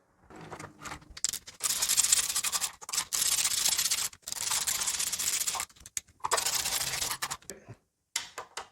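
Torque wrench tightening the front pinion cover bolts on a KTM Duke motorcycle: repeated bursts of close ratcheting clicks, each run lasting about a second, separated by short pauses.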